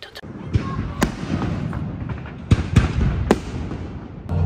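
Fireworks at a town fair: sharp bangs and crackling pops at irregular intervals, several loud reports standing out over a murmuring crowd background.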